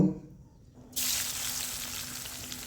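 Potato pieces frying in oil: after a quiet moment, a bright sizzle abruptly surges in and continues as a steady, close, crackling hiss with no voices.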